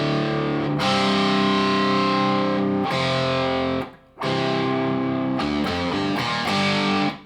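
Electric guitar through a Marshall or Blackstar distortion pedal, sharp, brittle, in-your-face crunch, loud sustained chords with brief breaks, played alone.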